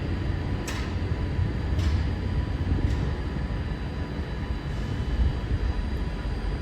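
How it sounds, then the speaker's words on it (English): A Class 185 TransPennine Express diesel train pulls out of Stockport station with a steady low engine rumble and wheel roar, heard fairly close, with a few faint high squeals or clanks scattered over the drone. "the train now departing is a 185"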